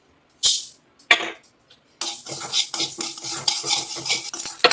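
A spoon stirs fenugreek and mustard seeds roasting in a dry pan, first a couple of sharp metallic scrapes, then a continuous close rattling, scraping stir with faint crackling.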